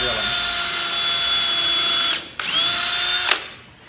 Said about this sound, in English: as the drill's spinning